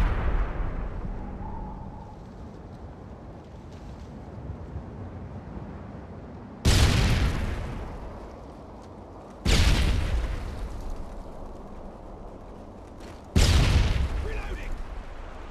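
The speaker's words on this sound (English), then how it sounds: "throwing stun grenade" Stun grenades thrown and detonating in a search-and-destroy match on an Afghan map: three sharp, loud bangs at intervals of a few seconds, each with a fading rumbling tail, over steady background ambience.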